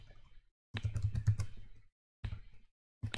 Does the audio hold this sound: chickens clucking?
no